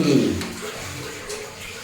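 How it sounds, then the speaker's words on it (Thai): Water splashes and sloshes while a pig is washed, strongest at the start and then a steady wet wash, with voices speaking nearby. "จับหมูอาบน้ำอีกแล้ว จับหมูอาบน้ำอ่า"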